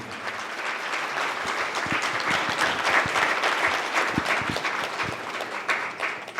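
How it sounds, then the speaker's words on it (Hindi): An audience at a Nari Shakti women's empowerment seminar breaks into sustained, loud applause, many hands clapping in a dense crackling wash that holds steady for several seconds. "कृपया सारी नारी शक्ति के लिए ज़ोरदार तालियां।"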